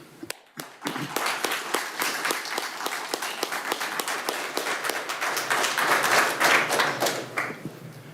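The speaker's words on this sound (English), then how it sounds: "I'm going to just give you a quick round of applause" Audience applause at a Rockingham County Board of Commissioners meeting, a dense, steady round of many hands clapping that swells slightly toward the end and then tapers off.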